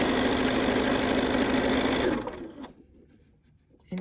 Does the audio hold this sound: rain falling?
no